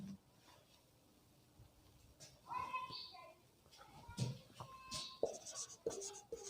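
Chalk or marker on a board during a physics lesson on optics and lenses, scattered scratchy strokes and taps at moderate distance, mixed with a voice and quiet room noise.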